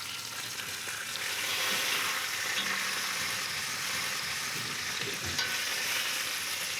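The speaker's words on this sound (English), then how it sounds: "once we've browned the chicken in a little olive oil" Chicken browning in a little olive oil in a pot, a steady close sizzle and crackle of frying with occasional stirring scrapes, no talking.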